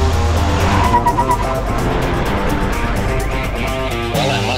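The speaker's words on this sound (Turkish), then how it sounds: "Artık şimdi 0 kilometreden hızlanma zamanı." A car launches hard from a standstill on a track, its engine roaring loudly and continuously with tire squeal, the pitch climbing through a gear change near the end.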